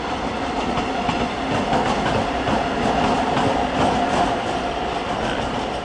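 A Südostbayernbahn train approaching München Hbf, with a steady loud rumble of rolling wheels and a faint clickety-clack on the rails, sustained throughout without voices.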